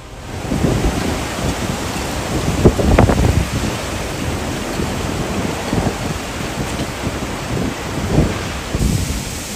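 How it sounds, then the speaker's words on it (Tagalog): Loud, roaring gusts of wind buffet the microphone over a steady wash of heavy rain, continuous and turbulent throughout. "nagkusog ang ulan, kag may mas mabaskog pagidgali nga hangin"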